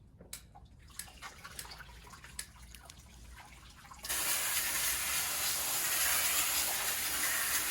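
Hose spray rinsing pool filters held over a bucket switches on abruptly partway through, a loud steady hissing rush of water, after a quieter stretch with scattered drips and small clicks.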